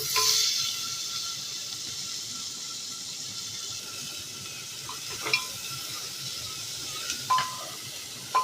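Goat leg pieces frying with onions in a pan, a steady close hiss and sizzle throughout with a few faint clinks of utensils.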